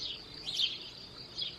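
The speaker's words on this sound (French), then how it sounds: "Les oiseaux et tout, comme d'habitude hein" Birds chirp outdoors in short, faint bursts of high twittering, with a couple of louder calls standing out over quiet background ambience.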